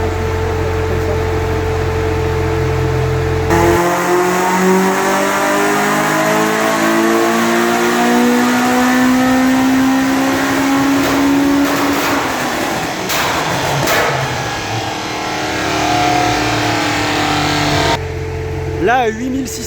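A Peugeot 205 GTI with a 1.6 engine revs hard to 8600 rpm, a loud rising engine note with climbing harmonics that peaks and falls away, then comes back on throttle, with a voice heard over it.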